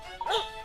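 A dog gives a single short, high yelping bark, close and brief, rising and falling in pitch against a quiet background.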